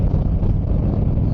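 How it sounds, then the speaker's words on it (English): Strong wind roars and buffets against the microphone in a constant dense rumble while riding a motorcycle downhill, with no other sounds. "We are battling some high winds on the way down."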